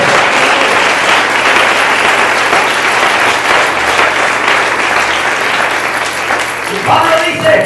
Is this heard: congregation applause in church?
yes